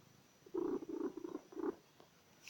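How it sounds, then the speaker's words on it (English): A comfortable, content cat named Thomas gives a soft, close purr in a few short low bursts over about a second in an otherwise quiet room. "you may hear him purring if you listen really carefully"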